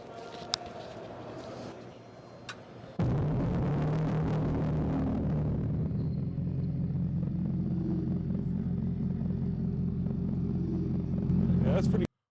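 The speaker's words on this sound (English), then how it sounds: "I'm going to cue them to, what's it called? Fratzonic exhaust." Dodge Banshee concept car's Fratzonic synthetic exhaust sound, a steady loud electronic droning rumble that starts abruptly and holds for several seconds, with people talking faintly before it begins.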